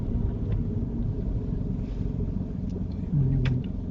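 A car pulling slowly into a parking bay during a UK mock driving test, a low steady engine rumble heard from inside the cabin with faint clicks and a brief rise in engine hum near the end.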